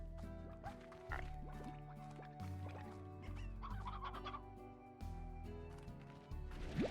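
Hens cluck in Slime Rancher, several short clucks scattered over a steady bed of game music, with no talking.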